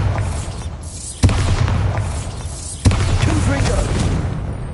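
Two heavy booming blasts from the Bombarda spell in the Hogwarts Legacy video game, each a sudden loud impact followed by rumbling debris, with game sound and voices carrying on between them.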